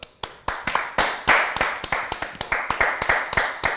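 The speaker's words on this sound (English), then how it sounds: "Or are they doing it as a minute's applause?" Scattered hand claps rise into brisk, steady applause at a Liverpool vs Burnley football match, sounding close and fairly small rather than a huge roaring crowd.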